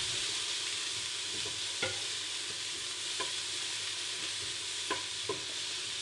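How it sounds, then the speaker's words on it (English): Onions sizzling steadily while frying in a pan with a little salt, with occasional sharp scrapes and knocks as they are stirred, heard up close with no talking. "Keep them stirring so they don't burn."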